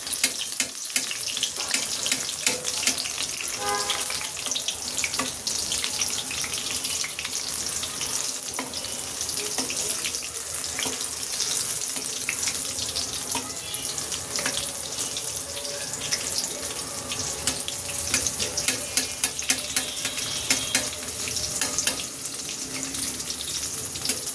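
Hot oil sizzles and spatters steadily as a capsicum dish fries, oil added little by little in a pan, a continuous dense hiss with crackling pops throughout, close and fairly loud with no talking.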